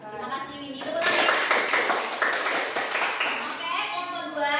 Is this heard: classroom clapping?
yes